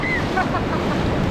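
Ocean surf washes steadily at a beach in Brazil, a dense, continuous roar of breaking water with wind buffeting the microphone and a faint voice underneath.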